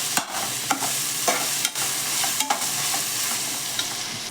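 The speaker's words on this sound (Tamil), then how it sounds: "மிளகாத்தூள் போட்டு நல்லா எண்ணெயில் வதக்கி விட்டுலாம்" Chilli powder masala stirred and fried in hot oil for a veg biryani, a steady close sizzle broken by repeated scraping strokes of a spoon against the pan, with no voices.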